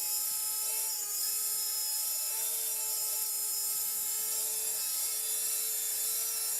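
A loud, steady mechanical whir and high whine runs continuously from model cable cars on a Hornby DCC model railway layout, with no voices.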